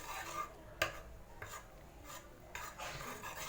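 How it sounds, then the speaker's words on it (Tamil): Pressure-cooked dal with garlic is mashed with a ladle in a pot, producing faint, soft scraping and squelching rubs with a few light metallic clinks, quiet and close. "இது கரண்டிலே கொஞ்சம் நல்லா மசிச்சு விட்டுக்கோங்க"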